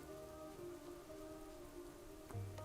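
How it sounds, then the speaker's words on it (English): Rain falls in the World of Warcraft game world as a quiet, steady patter under sustained tonal background music, with a brief soft thump near the end. "I just realized it's raining."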